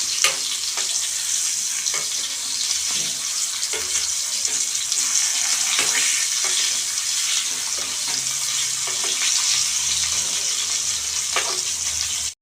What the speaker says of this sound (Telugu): ఇవి ఫ్రై అవుతాయి అటు ఇటు తిప్పుకుంటూ ఫ్రై చేసుకోవాలి